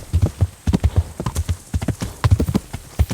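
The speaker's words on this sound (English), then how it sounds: "Horse is starting to get a little winded. You can usually hear it." Horse hooves clip-clop in a quick, uneven rhythm, close and fairly loud, with no voices over the footfalls; a tiring horse in the video game Kingdom Come: Deliverance.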